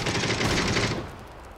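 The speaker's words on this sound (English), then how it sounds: "Gunshots halfway across the map." A rapid burst of automatic gunfire in PUBG crackles loud and dense, then fades into a short trailing echo.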